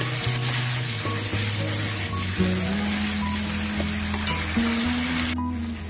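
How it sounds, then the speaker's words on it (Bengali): Mustard and poppy seed paste sizzles in a hot pan while being stirred, a continuous close frying hiss with scraping strokes over a low steady hum. "সর্ষে পোস্তটা দিয়ে একটু নাড়ানো হয়ে গেছে"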